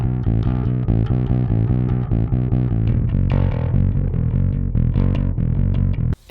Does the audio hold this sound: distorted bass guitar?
yes